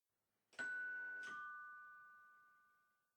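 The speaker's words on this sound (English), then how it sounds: "Someone rang the doorbell." Two-tone ding-dong of a doorbell in the video game Everlasting Summer, a clear chime struck twice in quick succession that rings out and slowly fades in an otherwise quiet scene.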